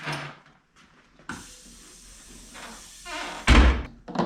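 A car door is lowered on a vehicle under window regulator and weatherstrip repair, ending in a loud, close thunk near the end after quieter handling noises.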